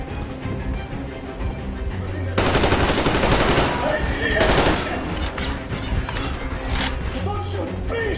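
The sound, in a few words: machine gun fire in Metro video game battle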